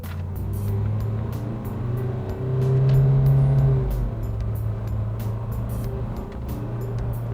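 A 2021 Isuzu D-Max 1.9L RZ4E pickup accelerating in manual mode, heard from inside as a steady low engine drone that swells and climbs around the middle, with light ticking over the top.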